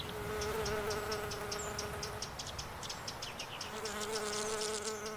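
Small insects, including heath potter wasps, hum and buzz across autumn heathland in a faint, continuous drone, with individual wings passing close at times and a soft background of other insects and distant birds.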